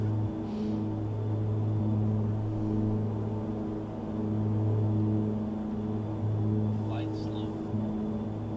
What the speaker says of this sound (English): The engine noise, it sounds like I'm going faster than I am.